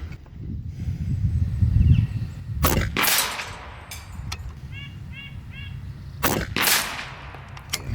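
Karma Red Panda PCP air rifle firing at a bench rest, two sharp close shots a few seconds apart, each a crisp crack with a short tail, over quiet outdoor background.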